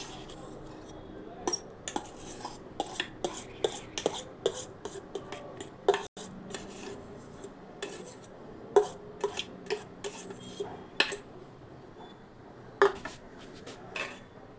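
Boiled mashed potato being mixed in a bowl with a spoon, giving irregular close clinks and scrapes of metal on the dish with soft rubbing in between, no talk.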